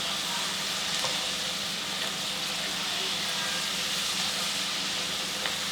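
French fries cooking in hot oil until golden brown and crispy, a steady dense sizzling hiss throughout, close and even, with faint background noise.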